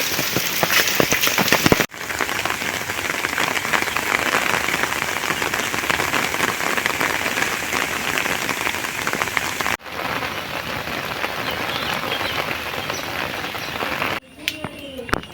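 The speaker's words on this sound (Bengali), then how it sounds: "তো বৃষ্টি তো দেখাইলাম" Rain pours down in a Bangladeshi village during the rainy season, a dense, loud, unbroken hiss of drops on surfaces that continues across several abrupt cuts.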